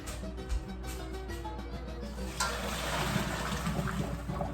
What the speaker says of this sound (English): So I'm gonna get about 1/4 cup of pasta water and add that to my sauce.